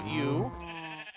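A sheep bleats once in Minecraft, a wavering, nasal cry that rises and bends. Someone speaks a single word over it.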